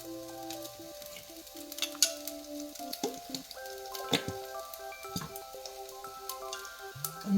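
Oyster sauce sizzling as it hits fried rice in a pan, a steady crackling fry with scattered pops and light stirring, close and alone without talk.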